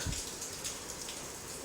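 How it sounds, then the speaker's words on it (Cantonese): Soft, steady rain patters outside, a faint even hiss with scattered droplet taps, heard from a distance. "依家聽到外面落雨啊， 聽到啲雨聲。"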